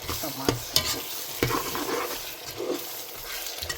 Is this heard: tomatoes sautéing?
yes